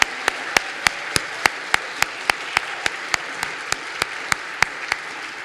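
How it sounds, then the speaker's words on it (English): An audience at a college chapel gathering applauds its five storytellers, a steady wash of clapping marked by sharp, evenly spaced louder claps roughly every quarter second. "Could we all applaud our 5 storytellers just one more time?"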